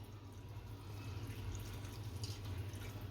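Water poured over poha in a bowl for washing makes a steady, soft trickling and dripping, close and continuous throughout.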